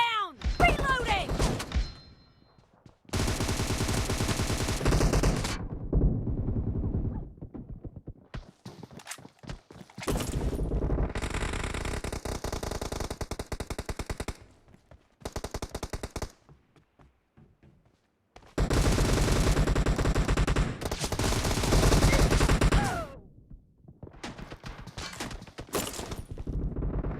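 Bursts of automatic gunfire in a PUBG team deathmatch at the Warehouse map come loud and close in several long runs separated by short pauses, with faint footsteps and other game sounds between them.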